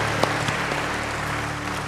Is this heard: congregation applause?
yes